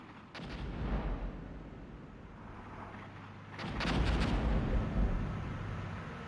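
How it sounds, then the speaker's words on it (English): Artillery fire in the Armored Brigade war game, two heavy booming volleys with rumbling tails, the second louder and more sustained, over a low continuous background of battle noise. "That artillery's just been brutal."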